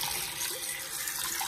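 Water runs from a household tap in a steady, close, continuous rush with no speech over it.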